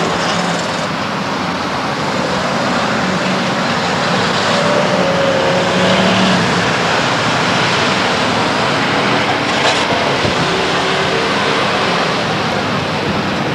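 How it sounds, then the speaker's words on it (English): Race cars rumble steadily around the Stockton 99 Speedway asphalt oval during an enduro, one car among them making strange rumblings, a loud, continuous, dense roar with no voices. "I still hear strange rumblings from the 24 car."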